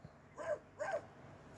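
A cartoon dog character gives two loud, voiced barks in quick succession, each short and bright, with a brief quiet gap between them and nothing else sounding.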